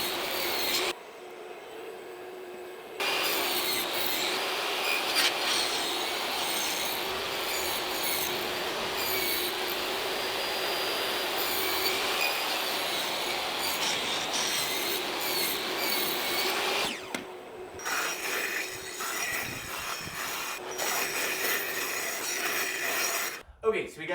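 Saw cutting dadoes in cabinet wood in a small shop, a loud sustained whining cut lasting many seconds, with brief pauses where the blade spins down before cutting resumes.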